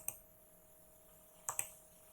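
A computer mouse gives three crisp, faint clicks in a quiet room, one near the start and a close pair near the end, with a thin electronic hum underneath.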